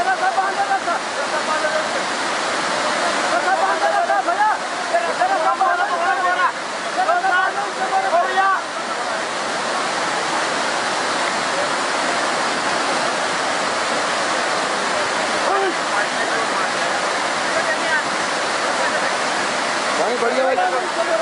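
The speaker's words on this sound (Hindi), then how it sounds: "पानी बढ़ गया भाई" Rushing floodwater roars in a continuous heavy wash, loud and close throughout, while voices speak over it at times.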